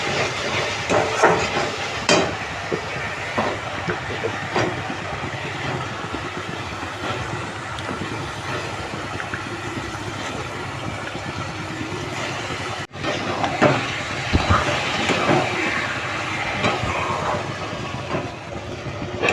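Fish is added to a pan of spiced masala and stirred during a Bengali lote fish jhuri recipe, a continuous loud sizzling hiss with scraping and clatter throughout, close up, with no talking.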